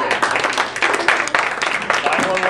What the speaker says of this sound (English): let's give a big round of applause to the marijuana group